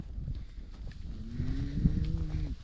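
A cow lowing as cattle are herded by voice on a farm, one long drawn-out moo rising over low outdoor rustle and handling noise.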